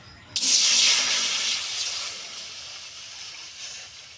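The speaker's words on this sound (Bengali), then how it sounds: "তার জন্য কড়াতে দিয়ে দেবো আমি জল।" Water poured into a karai set on a lit stove, a sudden loud rushing hiss that starts abruptly, peaks, then settles into a steadier steamy spray that slowly fades, with no talking.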